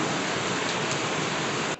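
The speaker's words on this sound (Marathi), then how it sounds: "आणि पाऊस जोरदार चाललाय, आवाज बघा." Heavy rain pours down outside a home in the evening, a steady, dense hiss that fills the whole stretch without a break before cutting off abruptly at the end.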